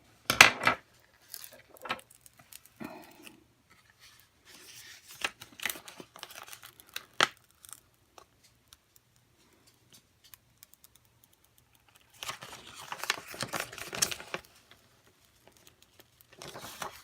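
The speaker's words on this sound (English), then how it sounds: "All you're gonna do is weed it now. And it should just all peel right off." Heat transfer vinyl rhinestone template, cut on a Cricut Explore Air 2, is peeled away in close, crinkly bursts: scattered short tears early on, then a denser stretch of continuous crackling peeling near the end, with no talking.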